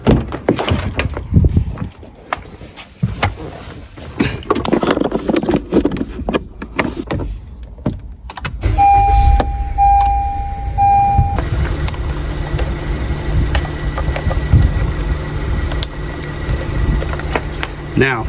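A portable tire inflator plugged into a car's cigarette lighter beeps a few times, then its motor kicks on with a steady loud drone after handling clatter and rustling at the start.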